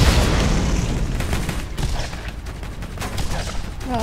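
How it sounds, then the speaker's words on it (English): Booming cannon shots and rapid bursts of gunfire echo in a noisy battle in the video game Borderlands, with a voice briefly exclaiming near the end. "I'm going to use my cannon for this one."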